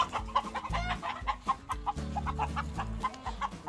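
Black Ameraucana chickens in a new coop cluck steadily and close by, a busy run of short repeated calls with no talk.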